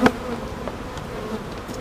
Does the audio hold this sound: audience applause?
no